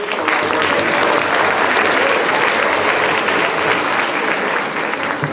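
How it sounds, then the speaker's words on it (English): Loud, sustained applause from a large crowd at a school assembly, a thick, steady wash of clapping that continues without pause. "Give them a round of applause."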